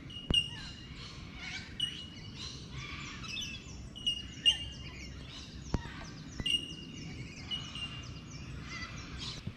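Several birds chirp and tweet in short bursts over a quiet forest background in a city park, some calls sharper and closer, others faint and distant.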